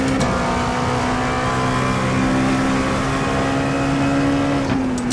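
Hypercar race car engines in a racing video game at Laguna Seca, a sustained high-revving engine drone holding a steady pitch, loud and continuous with a slight pitch dip near the end.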